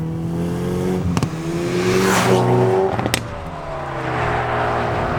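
A 2019 Hyundai Veloster N hot hatch accelerates on the road, its engine note climbing steadily through the revs with loud, close cabin-side drone and a couple of sharp mechanical clicks as it pulls.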